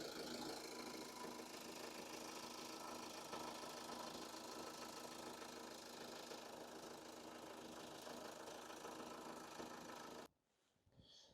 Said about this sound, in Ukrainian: двигун працює справно, так як і має працювати. Прислухайтесь.